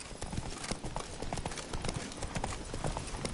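Hooves of the horse Roach clip-clop in a steady, quick rhythm in a video game, loud and continuous.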